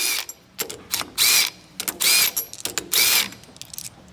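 A ratchet loosens bolts on a Kinetrol spring unit, sounding as close, sharp clicking bursts repeated in quick strokes with brief pauses between them.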